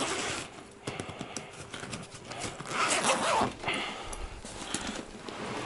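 Close by, a Meridian carrying case holding a parcel is unzipped in a run of quick, scratchy zipper rasps, with small pauses and brief handling clicks between pulls.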